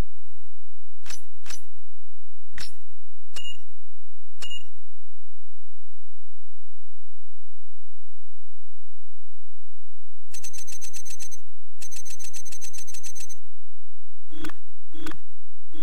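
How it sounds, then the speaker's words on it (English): Electronic alert beeps from the car's SMS message system in the racing game Need For Speed Underground 2, played on a Fanatec Clubsport V2 wheel: several sharp separate beeps, then two dense chirping bursts and two more beeps, loud and clear with no talk. "message system, otherwise known as SMS"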